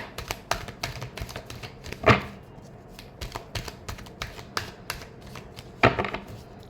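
Tarot cards are shuffled by hand in quick, irregular bursts of crisp riffling and snapping, with several sharper slaps standing out, close and fairly quiet with no talking.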